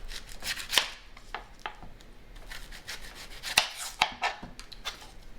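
A knife chops through a peeled onion on a wooden cutting board, producing a series of close, crisp, irregular thuds and scraping taps, a few sharper strikes standing out, with no talking.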